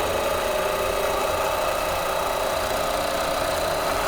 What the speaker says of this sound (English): It is tacking down the batting.